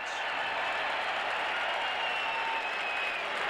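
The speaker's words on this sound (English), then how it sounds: "The fans here are cheering about something that was announced" Stadium crowd of football fans at a Detroit Lions at Green Bay Packers game roars in a steady, dense wash of cheering, loud and continuous throughout with no distinct voices standing out.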